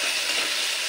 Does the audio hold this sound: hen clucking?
no